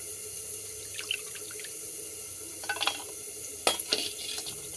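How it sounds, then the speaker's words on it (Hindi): Leafy greens (bhaji) are swished and rinsed in a basin of clean water, soft sloshing and dripping with a few sharper splashes near the end, close and quiet. "अब ओला साफ पानी में एक बार धो के निचो लेना है"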